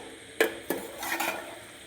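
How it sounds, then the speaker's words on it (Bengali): A spoon stirs spiced food in a pan right after the lid comes off, with two sharp scraping knocks followed by a softer, swirling scrape, close and fairly quiet. "এখন ঢাকনাটা খুলে একটু নাড়াচাড়া করে দিচ্ছি"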